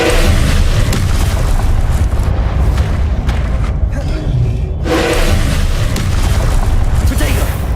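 Loud magical spell blasts and fiery explosions from the video game Hogwarts Legacy boom continuously in dense succession, with a brief lull midway before the barrage resumes, while a voice calls out spell names.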